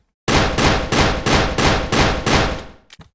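Seven evenly spaced pistol shots ring out loud and close in a homemade, self-coded video game, each sharp blast running into the next, followed by a brief quieter clatter at the end.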